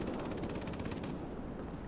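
Aircraft cannon fire in a World of Warplanes air battle, a rapid rattling burst of shots lasting under two seconds at steady medium loudness.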